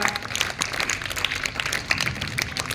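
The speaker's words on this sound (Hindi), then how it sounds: "अपने खुद के वास्ते ताली बनाओ" A motivational speech audience claps for themselves, a brisk, scattered patter of many hands applauding continuously at close range.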